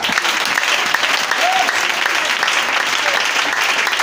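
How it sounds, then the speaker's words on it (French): A church congregation claps loudly and steadily, dense applause filling the space, with faint voices mixed underneath. "C'est acclamation du Seigneur."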